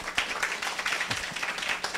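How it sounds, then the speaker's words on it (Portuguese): Audience applause at a writers' talk event, a soft, continuous patter of many hands at a moderate distance, quiet and even throughout with no speech on top. "uma salva de palmas para esse..."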